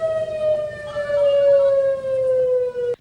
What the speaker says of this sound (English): for a tornado warning, it's a continuous sound called a wail.